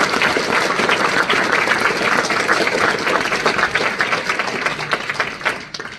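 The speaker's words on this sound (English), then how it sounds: "Can we just give them another applause, please?" An awards ceremony audience claps steadily with dense, close applause that holds for several seconds and tapers slightly at the end.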